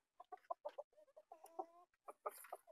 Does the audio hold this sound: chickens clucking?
yes